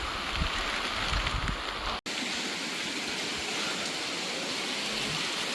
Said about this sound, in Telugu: చినుకులు పడుతున్నాయి పైనుంచి.